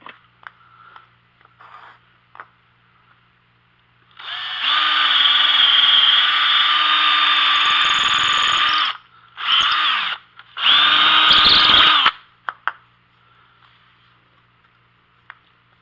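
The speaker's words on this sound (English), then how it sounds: "So I'm going to drill the rest of these holes." A power drill bores holes in a plastic bin while upgrading a drywasher, with one long whirring run followed by two shorter bursts, loud and close, set between quiet pauses.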